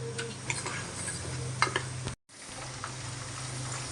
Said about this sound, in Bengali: এখন হচ্ছে নাড়াচাড়া করে ভাজতে থাকবে